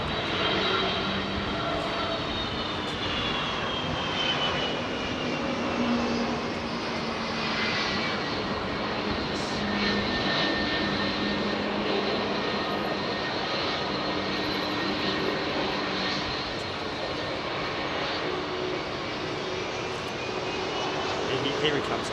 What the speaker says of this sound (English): Let's listen to these RB211s